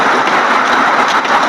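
Heavy rain pours in a dense, steady hiss of countless drops, loud and close, forming a continuous wash with no voices over it.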